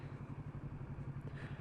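A Kawasaki Ninja 650 motorcycle pulling up to a motorcycle shop, its engine giving a steady, low pulsing throb at close range with light mechanical clatter, no voices over it.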